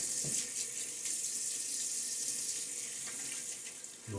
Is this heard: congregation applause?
no